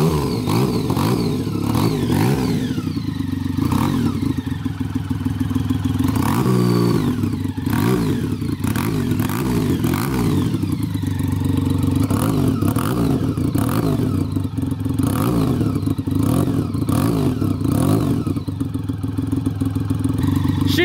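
A rebuilt BMW cafe racer motorcycle starts up and revs hard, a loud, close, continuous engine roar whose pitch rises and falls with the throttle.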